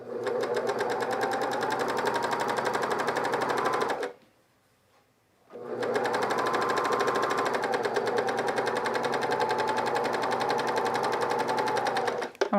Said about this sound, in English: I want to thank my cover stitch for behaving really nicely today.